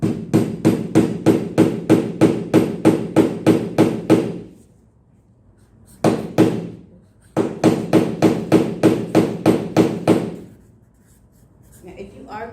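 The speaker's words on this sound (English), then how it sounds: "if you are going to hammer your nails in by yourself" Steady, rapid hammer blows driving nails into wood, ringing out close up in two long runs, separated by a pause with one lone strike, then a short quiet stretch.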